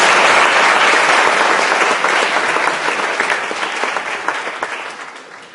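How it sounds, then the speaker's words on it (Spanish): A congregation applauds for José Luis during a church service, a loud, dense, sustained round of clapping that tapers slightly toward the end. "Un aplauso para José Luis."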